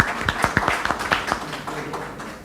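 A conference audience claps for a panel of accountants, a loose spatter of individual hand claps rising in the first second and thinning out, fairly close and moderately loud with faint voices beneath.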